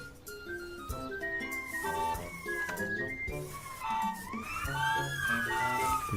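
Toy radio-controlled ambulance siren warbling with electronic rising and falling tones over a busy background, moderately loud and continuous.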